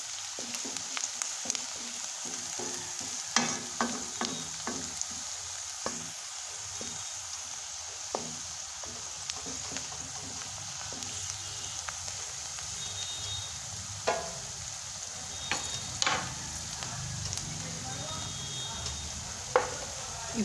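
Onion fries toward golden brown for upma, a soft continuous sizzle in the pan punctuated by scattered spatula clicks and scrapes, moderately near, without voices.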